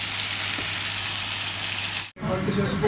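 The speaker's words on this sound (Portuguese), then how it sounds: "já estou aqui fritando. Feijãozinho." Beans sizzle steadily in a hot frying pan, a dense, close, continuous crackle that cuts out for a split second near the end before resuming.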